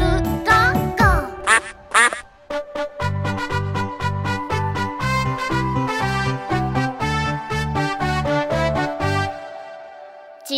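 A cartoon duck quacks in rhythm through a bouncy children's song, repeated quack notes over a regular musical beat, with singing throughout.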